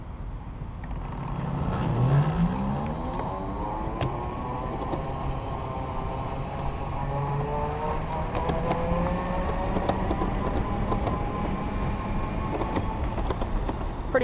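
An electric bike's hub motor running on twist throttle, a quiet rising whine heard up close over steady rolling and wind noise.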